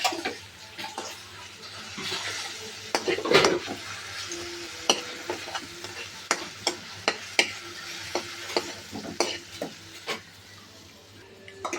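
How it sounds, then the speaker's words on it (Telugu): A utensil stirs masala into potato biryani in a pot, giving close, repeated scraping knocks and clinks against the metal over a faint background hum. "దీన్ని మనం ఒకసారి కలుపుకోవాలండి"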